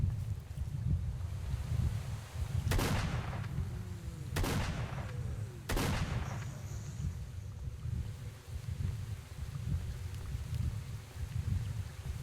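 Three sharp gunshots crack out one by one, a second or so apart, in S.T.A.L.K.E.R. OGSE at Yantar, loud against a steady wind-like rumble, with no talking.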